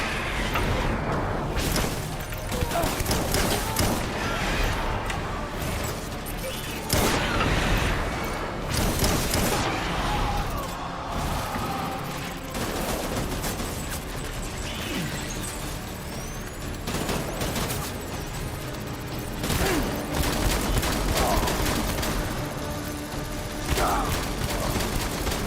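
Soldiers fire guns in the video game Death Stranding, with repeated bursts of gunfire and sharp metallic clatter, fairly close, in uneven volleys over a continuous mechanical din.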